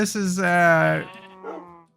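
Sheep in the Minecraft video game giving a drawn-out wavering bleat followed by a shorter second call, clear and close with nothing else beneath it.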